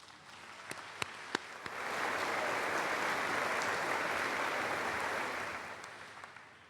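A graduation ceremony crowd in South St. Paul bursts into sustained applause, a dense wash of many hands clapping that swells after a few scattered early claps, holds steady for several seconds, then begins to thin.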